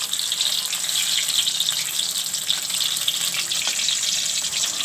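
Whole tomato bhajiya frying in hot oil in a kadai, a steady bright crackling sizzle held close and even throughout, with no talk.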